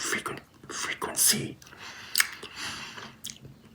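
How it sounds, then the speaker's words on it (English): Dubble Bubble bubble gum chewed close to the mic, with wet squishing chews and a few sharp snaps spaced through the clip, under soft whispered talk. "So the sound of the snapping when it's in thick form, the snapping sounds a little bit lower, like a lower frequency."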